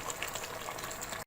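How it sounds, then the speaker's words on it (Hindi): Water pours into a cooking pot of yogurt-based shaljam gosht, a short close splashing gush that runs steadily and stops abruptly. "इसमें डाल दूँगी मैं पानी"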